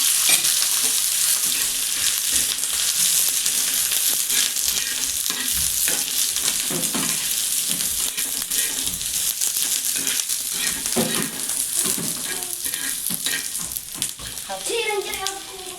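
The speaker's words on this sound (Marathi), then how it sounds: "अद्रक आणि लसूण टाकते लसणाच्या दहा बारा पाकळे आणि अद्रक एक इंच आहे तेल टाकले भाजण्यासाठी" Garlic cloves and an inch of ginger frying in oil with onions for a stuffed brinjal curry, a steady loud sizzle with occasional stirring scrapes and clinks throughout.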